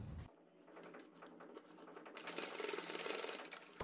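A sewing machine stitches a straight seam across fabric at a neckline corner, a close, steady rapid whirring patter that starts after a brief pause and builds slightly louder toward the end.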